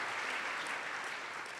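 Luncheon guests at a conservation association's annual meeting give a round of applause for a state Envirothon team, a broad, even wash of clapping that holds steady without talk.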